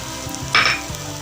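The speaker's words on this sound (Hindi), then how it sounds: "चिकन ऐड करेंगे और इसको फ्राई कर लेंगे अच्छे से" Chicken frying in a pan, a brief close sizzle with a sudden louder hiss burst midway and a stir scrape.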